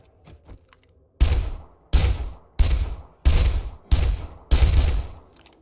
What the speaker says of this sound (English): let's just shoot this bear in the ass